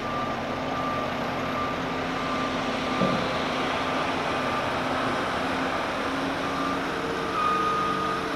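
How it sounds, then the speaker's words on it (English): During snow removal, a truck moving snow backs up with steady reversing beeps over a constant engine rumble, heard from nearby at an even, unbroken level. "And the truck's getting ready to leave."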